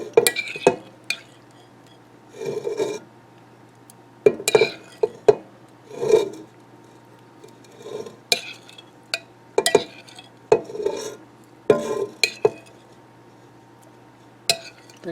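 Raw shrimp with garlic are spread out inside a Ninja Foodi pot: scattered clinks, scrapes and soft taps of a utensil against the metal pot, close and intermittent, with quiet gaps between.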